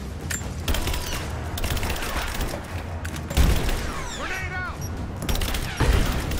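Gunfire bursts and a grenade blast in Rise of the Tomb Raider, rapid rattling shots in clusters with a couple of heavy low booms, shouted voices from combatants mixed in.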